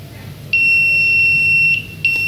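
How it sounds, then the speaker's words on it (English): A loud, high electronic buzzer on a blind helper stick's obstacle sensor beeps in a long continuous tone of over a second, then cuts off and starts again briefly. "the red LED is glowing and the buzzer is also blowing"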